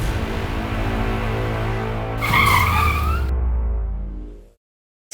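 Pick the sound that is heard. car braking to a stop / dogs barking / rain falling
car braking to a stop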